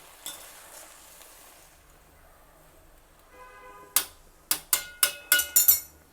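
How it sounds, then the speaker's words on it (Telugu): Raw banana curry is stirred in a pan, a soft scraping pause giving way to a series of five or six sharp metallic clinks of spoon against pan, close and clear. "మధ్యలో ఒకసారి మళ్ళీ ఇలా కలుపుతూ ఉండాలి, మాడిపోతుంది లేకపోతే కింద అంటుకుంటుంది."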